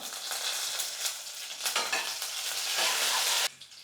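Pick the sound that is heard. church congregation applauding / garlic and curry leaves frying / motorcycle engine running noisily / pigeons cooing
garlic and curry leaves frying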